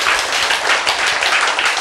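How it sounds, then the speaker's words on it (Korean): An audience at a health lecture breaks into applause, a sustained wash of many hands clapping evenly and loudly throughout, with no talking over it. "창조주에게 박수 한번 보냈나 하죠"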